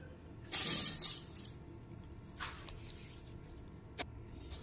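Freshly washed rice being spread on a plate to drain, giving wet, gritty rattles and squishy shuffles in a couple of loud bursts, then softer scattered drips and a single sharp tap, with no talking.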